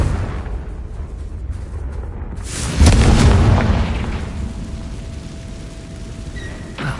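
A Confringo fire spell in Hogwarts Legacy bursts with a loud boom about three seconds in, then rolls off into a fading rumble over a steady game-world ambience.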